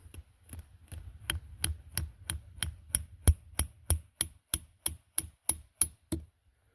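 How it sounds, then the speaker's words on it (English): Hammer taps a metal sap spout into a maple trunk, a steady run of about sixteen sharp, close knocks roughly every third of a second, the later strikes ringing brighter and crisper as the spout seats firmly. "And you just stick that tap in there like that, and just give it a little tap"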